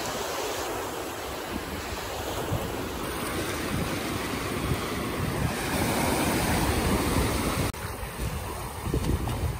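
Sea waves surge and break continuously on Cavelossim Beach in Goa, a loud, dense roar of surf with gusts of wind hitting the microphone.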